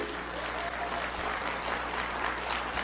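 A crowd audience claps in steady, dense applause, a continuous wash of hand claps with no pauses, fairly loud and even throughout.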